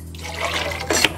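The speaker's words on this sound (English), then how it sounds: "Pour that into a shaker tin full of ice" Vodka, lemon juice and syrup are poured into a shaker tin full of ice, a short close liquid trickle that swells briefly before a small splash near the end.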